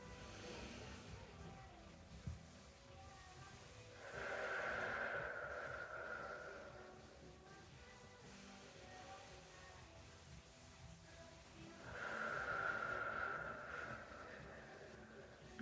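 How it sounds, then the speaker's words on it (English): Two slow, deep breaths during a gentle mobility and breath work practice for pregnancy, each a soft, drawn-out airy rush lasting a couple of seconds, close and quiet with stillness between them. "Inhale, think of that flower opening up, and then exhale, that flower's closing."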